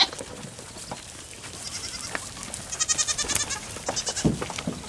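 A herd of goats bleating repeatedly at moderate distance, overlapping calls rising and falling over steady outdoor background noise.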